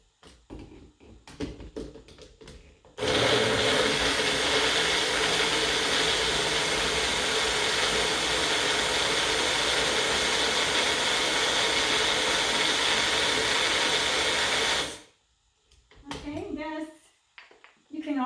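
A 1500-watt Ninja blender churns a cucumber smoothie in a loud, steady roar lasting about twelve seconds, with a voice heard briefly before and after.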